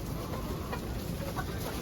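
Chickens on a small farm coop give soft, low clucks close by over a steady murmur of background noise, with no one talking.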